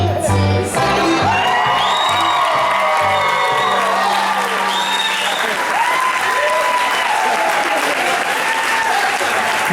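Audience applause with cheers and whoops right after a performance at Knott's, loud clapping mixed with shouts and a voice, continuous throughout.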